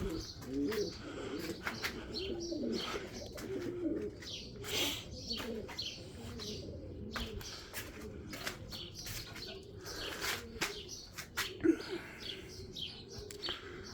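Pigeons cooing steadily with scattered chirps and tweets, a dense continuous chorus of birds close by in the early morning, with a few wing flutters.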